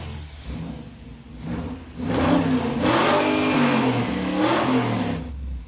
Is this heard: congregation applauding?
no